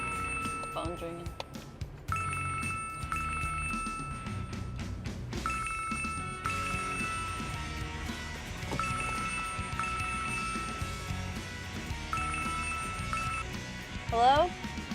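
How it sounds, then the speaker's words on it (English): A telephone rings repeatedly in a steady electronic pattern at moderate loudness, continuing through the clip with background activity, just before a woman heading to work answers. "Phone's ringing."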